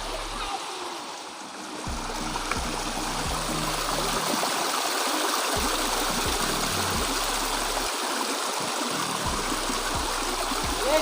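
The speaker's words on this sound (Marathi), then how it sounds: "गडावर छोटा असा पाण्याचा स्रोत आहे" A small stream of water on Prabalgad fort flows and trickles steadily nearby, a continuous bright rushing sound with low rumbles and faint background noise.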